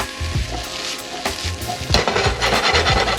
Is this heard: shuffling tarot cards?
no